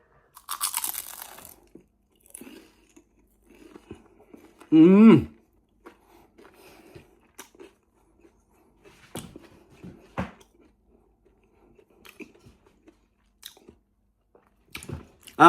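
Close crunchy bites and chewing of a fried Filipino spring roll (lumpiang shanghai) cooked in an air fryer, a sharp crackling crunch followed by scattered quieter chews with pauses between.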